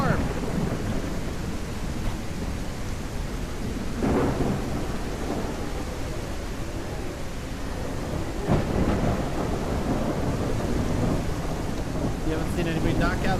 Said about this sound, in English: I can't hear you guys over the storm.